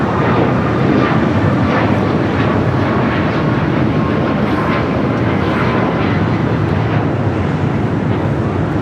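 An airliner rolls down runway 25 right at LAX on departure, its engines a loud, sustained jet roar swelling gradually with gusty wind noise on the microphone, no voices.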